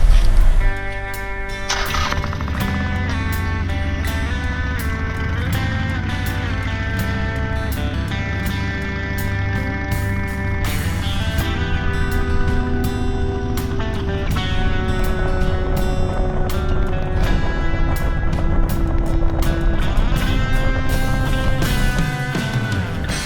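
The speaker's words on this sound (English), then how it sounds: "I'm gonna get on the bike, I'm gonna get on the highway" A Harley-Davidson Iron 883 motorcycle cruising on a Route 66 highway, its engine a steady, loud, continuous drone with rising and falling harmonics and wind rush, and no talking.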